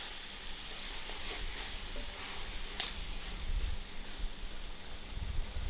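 Masala chicken fry sizzles over an outdoor fire with a faint, continuous hiss and a few soft pops. Low rumbling from the open air sits underneath.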